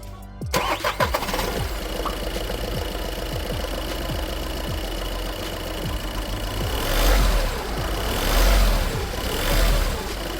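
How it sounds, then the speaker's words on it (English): A VW car engine, just repaired, cranks and fires up, then settles into a steady, even idle with a few louder revs toward the end, heard close by. "I've replaced it, turned the car on. The engine sounds good again."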